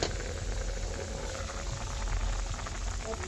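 Hilsa fish curry with sammam melon bubbling under a lid: a close, steady boil with dense bubbling and a faint hiss of steam, continuous and without talking.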